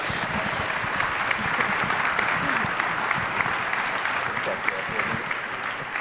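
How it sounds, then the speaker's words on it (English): A conference audience applauds a panel with steady, dense clapping that holds at an even, fairly loud level for several seconds, with no voices standing out. "How about applause for the great panel?"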